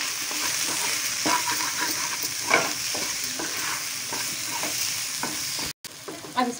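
Turmeric powder and chaat masala frying in a pan for sago upma, with a steady close sizzle under repeated scraping stirs, then a brief gap before the frying resumes.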